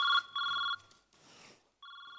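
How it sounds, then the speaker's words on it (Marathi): A telephone rings on a Marathi comedy stage show in three loud electronic bursts: two long rings, a short pause of muffled noise, then a third ring beginning. "इथे आले आता कोणाचे फोन?"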